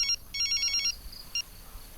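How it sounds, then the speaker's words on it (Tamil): A telephone rings with bright electronic trilling bursts, two longer rings followed by a short chirp, heard fairly close against a quiet indoor background. "அதுதான் டெலிஃபோன் பண்ணுது."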